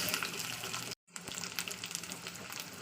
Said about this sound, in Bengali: তো দেখতেই পাচ্ছেন দিয়ে দিচ্ছি আদা রসুনের জল।